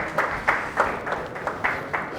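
A church congregation claps loudly together, with rhythmic bursts of applause rising and falling over a steady crowd noise.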